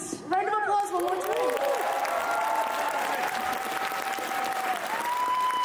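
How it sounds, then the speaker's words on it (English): Audience applauding and cheering for a gorgeous cast at a live stage event, a dense steady wash of clapping with a few whoops and a voice speaking over the top near the start. "Round of applause one more time."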